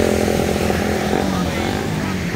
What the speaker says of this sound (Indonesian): Udah nembak-nembak tuh air dari knalpotnya.